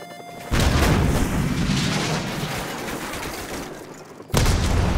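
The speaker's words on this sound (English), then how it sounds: "Soap, grab another Stinger and fire again." A Stinger missile launches in Call of Duty Modern Warfare Remastered, a loud booming blast followed by a sustained roaring rumble that fades slightly, then a second heavy boom near the end.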